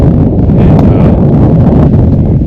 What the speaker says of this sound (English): the wind's a whipping